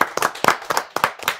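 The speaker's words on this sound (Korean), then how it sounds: "박수 주세요." Audience applause at a university intellectual-property evaluation show, heard as a short burst of several hand claps in uneven clusters, fairly close and moderately loud.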